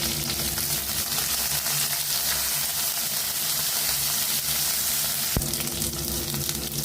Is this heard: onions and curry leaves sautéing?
yes